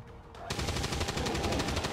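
Rapid automatic gunfire erupts in the XCOM 2 War of the Chosen video game, a quiet moment giving way to a sustained loud burst of closely spaced shots rattling steadily to the end.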